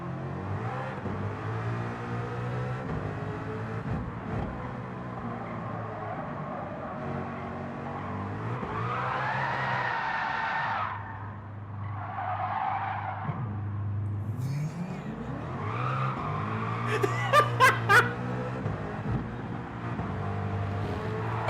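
A race car in Gran Turismo 7 revs hard with rising and falling engine tones, then skids and spins out with tire squeal near the end, loud and continuous with no talking.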